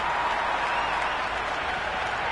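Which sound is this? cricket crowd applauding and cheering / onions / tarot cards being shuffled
cricket crowd applauding and cheering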